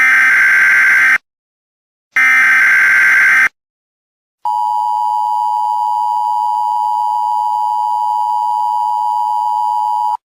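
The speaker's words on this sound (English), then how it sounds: "This is the coordinated monthly test of the emergency alert system." Emergency Alert System test tone: two harsh, loud buzzing bursts separated by silence, followed by a long, steady, piercing single-pitch tone lasting about six seconds.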